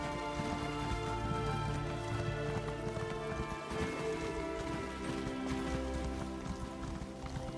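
Steady rain in The Elder Scrolls Online: Morrowind patters continuously, with scattered drips and a layered musical drone underneath.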